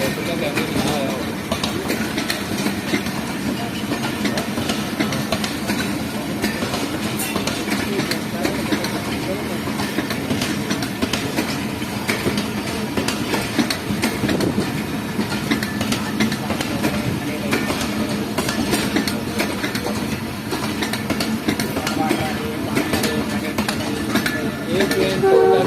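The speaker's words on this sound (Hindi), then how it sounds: "हमारी ट्रेन ने मूव करना शुरू कर दिया है" The Jaffer Express rumbles as it starts moving along a single-line track, a steady loud rolling drone with faint rhythmic clatter, while people talk aboard.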